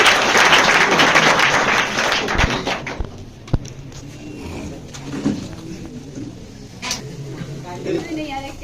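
Audience clapping for a student at a Student of the Year competition 2023 on a stage in a rural area, dense and loud at first, then thinning to scattered claps under a talking voice.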